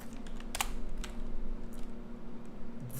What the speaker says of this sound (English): Why do I keep typing percentages?